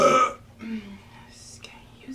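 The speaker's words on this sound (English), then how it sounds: "I feel a burp coming on." A single close burp from a person eating Wendy's chicken nuggets with buffalo sauce, short and loud at the start, followed by soft breathy mouth noises.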